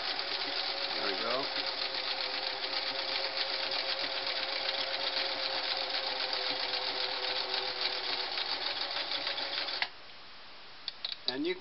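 A Singer Model 347 sewing machine stitches in a steady, continuous buzz close by for about ten seconds, then stops, leaving a few faint clicks.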